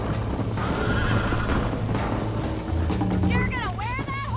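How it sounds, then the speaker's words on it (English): A horse in the Red Dead Redemption video game gallops with quick clip-clop hoofbeats and lets out a loud rising-and-falling whinny near the end, under steady game music and ambience. "You're gonna wear that horse out!"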